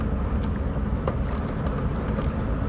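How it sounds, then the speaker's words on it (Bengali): A boat docks at a river ghat after crossing the river, its low, steady rumble filling the clip with a broad wash of engine and wind noise and no speech. "এখন নৌকাটা বিরা হবে"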